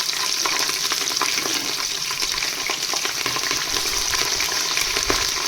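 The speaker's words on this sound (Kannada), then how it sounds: "ಅದು ಸ್ವಲ್ಪ ಫ್ರೈ ಆದಮೇಲೆ ಈರುಳ್ಳಿನ ಹಾಕ್ತಿದ್ದಾರೆ" Spices such as stone flower, cinnamon, bay leaf and ajwain fry with onions in a pan for biryani, a steady close sizzle with crackling pops and no voices.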